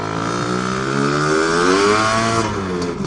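A 333cc Lambretta CP Sledgehammer scooter engine pulls hard under steady throttle, its loud buzzing exhaust note rising smoothly in pitch close by, with no spluttering.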